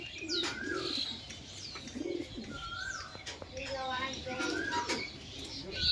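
Racing homing pigeons at a loft cooing and chirping in repeated short calls with occasional wing flaps, moderately close, with some background voices.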